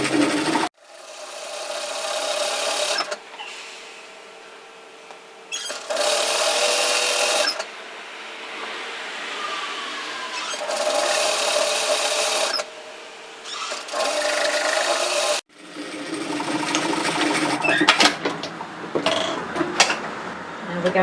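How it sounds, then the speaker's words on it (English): A sewing machine stitches a seam of bib overalls in several runs, each a buzzing whir lasting a couple of seconds, separated by pauses and ending with a rougher, clattering stretch. "we're going to sew 1 centimetre through that back place, and we're going to remember to back tack and sew at 1 centimetre,"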